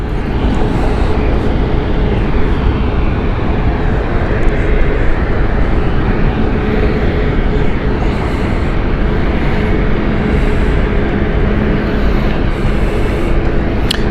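An Embraer E-Jet of BA CityFlyer at London City Airport produces a loud, steady broadband jet roar that holds constant for the whole stretch without any talking.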